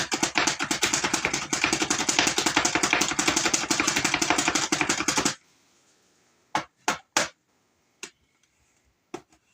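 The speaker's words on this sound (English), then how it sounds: "if you hear me making noise, that's my slap chop, because I hate chopping olives" A Slap Chop plunger chops olives in a kitchen: a dense, rapid clatter of strikes for about five seconds, then a few separate sharp knocks after a pause.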